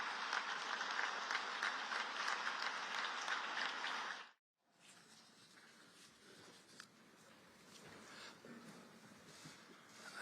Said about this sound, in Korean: 모두 일어나 큰 박수로 맞이해 주시기 바랍니다